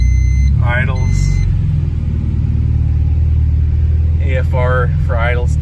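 A naturally aspirated Honda car engine idles with a steady, loud low rumble that holds throughout, while someone speaks briefly over it in two short bursts.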